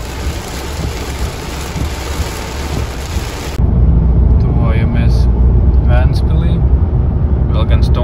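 Heavy rain pours down in a dense, constant roar while driving in Sweden, with low rumbling from the vehicle and occasional faint higher sounds over the downpour.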